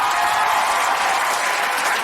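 Dense, steady audience applause at a Dance Karnataka Dance 2025 TV reality show taping, many hands clapping loudly and continuously with no voices over it.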